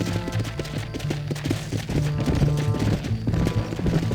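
Rapid hoofbeats of a galloping horse with a brief whinny, dense and loud, set against busy game-style background noise and effects, from Red Dead Redemption.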